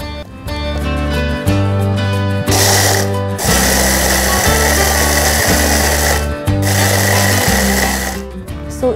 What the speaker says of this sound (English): So we just put all the biscuits in the food processor and we are just going to blitz it to a coarse sandy powder.